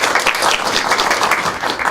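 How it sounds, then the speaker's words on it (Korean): Steady applause from a lecture audience, a dense wash of many hands clapping continuously and fairly close for the whole short stretch. "박수 부탁드립니다"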